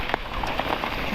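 Rain falls on a Hawaii farm during Hurricane Lala, a steady close patter and hiss with scattered individual drops tapping on nearby surfaces.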